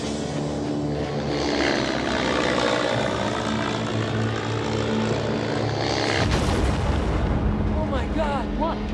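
An airplane drones loudly and steadily overhead, then a sudden heavy crash and rumbling impact breaks in near the end, followed by rough, broken noise.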